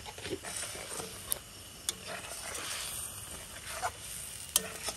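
Egg curry simmering in a pot as it comes to a boil, a faint soft bubbling hiss with a few light stirring clicks and taps spread across it, quiet and steady with no talk.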